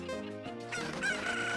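Chickens in The Legend of Zelda: Ocarina of Time cluck and crow as game sound effects, a steady layered fowl chorus with a brief rooster-like call, loud and continuous over a tonal background.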